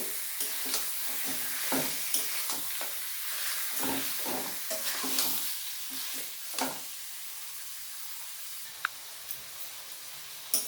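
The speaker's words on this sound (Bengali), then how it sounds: "আগে মটনগুলো কিছুক্ষণ আমি কষিয়ে নেব লবণ হলুদ ছাড়াই কিন্তু কষিয়ে নেব" Mutton pieces stir-fried in a pan with no salt or turmeric yet, giving a steady sizzle with repeated scraping stirs that ease off and grow quieter toward the end.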